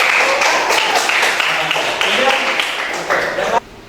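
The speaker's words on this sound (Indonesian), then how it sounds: "Ya, beri tepuk tangan." Students applaud in a classroom during a civics lesson, a dense, steady patter of many hands that holds for about three and a half seconds and then cuts off abruptly, with voices mixed in.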